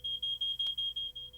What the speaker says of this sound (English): Smoke detectors are very important. They give your family early warning there's a fire